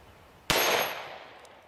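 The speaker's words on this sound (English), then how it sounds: "44 Magnum, one of the biggest handgun cartridges." A single .44 Magnum handgun shot slams into a titanium block, one sharp loud crack followed by a ringing, decaying metallic tail, with nothing else around it.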